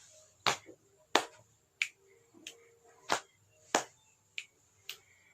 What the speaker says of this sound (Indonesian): Lalu tepuk seperti ini, baru jentikan tangan yang kanan dan yang kiri.